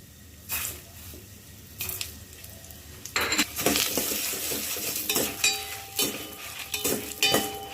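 Chana dal, urad dal and coriander seeds roast dry in a pan, stirred with a metal spoon that scrapes and clinks in irregular bursts over a faint background, close up and without speech.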